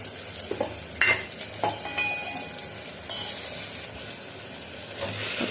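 Potatoes frying in a pan for curry, stirred with a few distinct scraping strokes over a steady soft sizzle, close and moderately loud.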